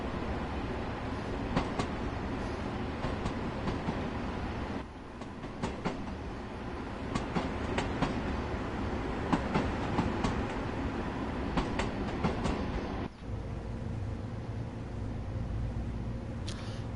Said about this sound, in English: Just the track joins, and you can hear it down the train.